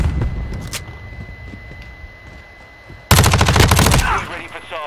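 MP5 submachine gun in Modern Warfare 2: a few scattered shots over quiet game ambience, then a loud, close, rapid-fire burst lasting about a second, followed by lingering game noise.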